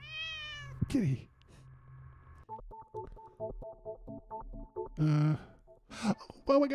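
In The Cat Lady, a cat meows plainly near the start and again later, with a run of short electronic beeps and tones in between and a breathy sigh-like sound near the end.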